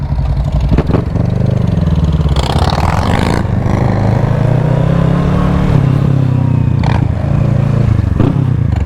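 A heavy motorcycle engine revs loud and close, a continuous rough throaty roar with rising and falling throttle and some mechanical clatter, no talking.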